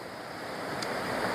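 A Scottish waterfall roars steadily nearby, a dense, constant broadband rush of falling water with no pauses and no voices.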